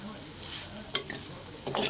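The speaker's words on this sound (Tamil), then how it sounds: "நல்லா இதே மாதிரி கிண்டி கிண்டி செஞ்சு பாருங்கள்" Egg stir-fry stirred in a pan: a soft low sizzle under a few quick spatula scrapes and clicks, close and fairly quiet, over less than two seconds.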